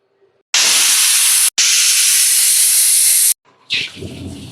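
A pressure cooker cooking Peshawari beef lets off two loud, sharp hissing whistles of steam in quick succession, the second longer, followed by a softer spluttering release.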